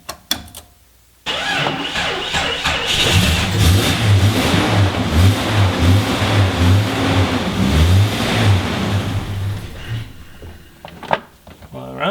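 A 1998 Jeep XJ engine cranks, catches and runs roughly with uneven revving, loud and close, then cuts off; voices talk over it.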